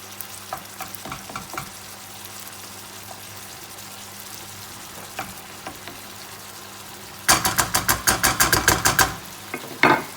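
Fresh Italian tomato sauce simmering and sizzling in a pan as it is stirred after a spoonful of sugar, with scattered light scrapes giving way to a quick run of loud, rhythmic spoon strokes and a final clatter.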